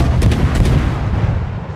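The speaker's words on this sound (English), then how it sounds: "dodging gunfire from American destroyers in a Kagero" Booming naval gunfire from a Kagero destroyer battle in World of Warships, with a few quick, heavy reports over a dense, rumbling din that fades slightly toward the end.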